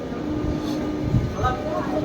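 A train pulled in at platform 1 of a railway station, heard as a steady, loud low rumble filling the whole moment, with a faint tonal squeal rising near the end and no distinct voices.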